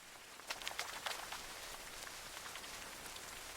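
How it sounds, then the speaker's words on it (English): Rain falls steadily outside a village home, a dense close patter on the surface with a few louder individual drops standing out early on. "He enjoys the soothing rain outside."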